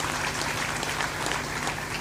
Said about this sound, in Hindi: ताली बजाकर सम्मान